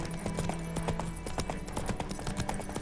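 Roach, Geralt's horse in The Witcher 3, trots along in a quick, even clip-clop of hoofbeats, close and steady over a light background bed, with no talk.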